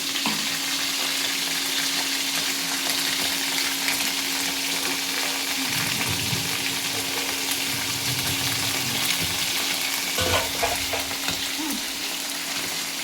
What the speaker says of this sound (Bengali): ডিমগুলো ভেজে নিই